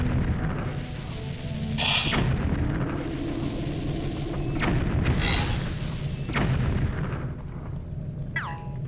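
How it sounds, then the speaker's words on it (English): Bomb arrow explosions in the video game Zelda: Twilight Princess, three or four separate booming bursts a couple of seconds apart over a low rumbling background, fairly quiet overall, with no voices. "so that I don't accidentally take explosion damage off the bomb arrow"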